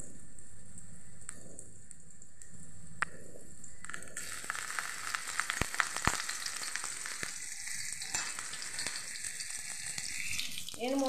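Ginger paste hits hot oil with five-spice while bitter gourd dal is being made. A quiet stretch gives way to a sudden burst of loud, crackling sizzle that continues with sharp pops.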